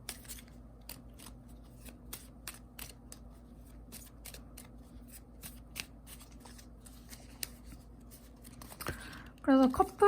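Tarot cards are shuffled and drawn in a series of quick, light riffling taps, moderately close and steady, ending in a brief louder burst of handling near the end.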